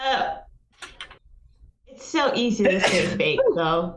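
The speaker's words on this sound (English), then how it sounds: "My boy sneezed." A person sneezes once, a short sharp burst near the start, followed by quiet and then someone speaking close to the microphone.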